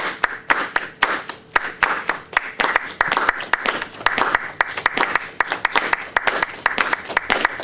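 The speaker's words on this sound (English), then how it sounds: "Can anybody just clap straight?" Hands clapping in rhythm at a flamenco workshop, a group producing sharp, regular claps in a steady pulse with accented beats, close and lively, with brief voices mixed in.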